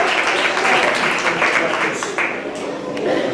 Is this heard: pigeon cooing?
no